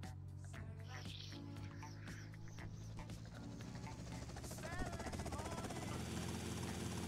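Helicopter in the video game GTA Vice City, a steady low rotor drone and whine running throughout at modest level, mixed with game effects and clicks, with some talk over it.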